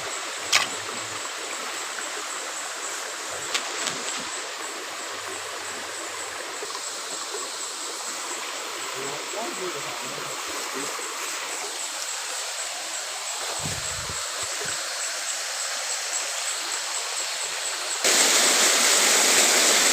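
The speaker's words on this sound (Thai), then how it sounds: "เจอน้ำตกอีกแล้วนะครับ น้ำตกมีเยอะมากครับ" A forest waterfall at night roars with a steady, loud rushing wash that fills the whole stretch and swells slightly louder near the end.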